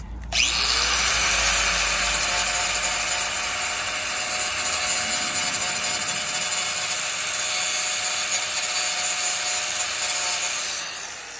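A power drill whines steadily at high speed for several seconds, loud and close, drilling a hole for a wing on a 2020 Camaro LT, then winds down at the end.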